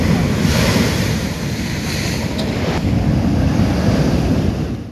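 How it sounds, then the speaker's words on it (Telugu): Sea waves crash and surge continuously on the Uppada coast in Kakinada district, with strong wind buffeting the microphone throughout, loud and close with no voices. "కాకినాడ జిల్లా ఉప్పాడ తీర ప్రాంతంపై మరోసారి సముద్రపు అలలు విరుచుకుపడుతున్నాయి"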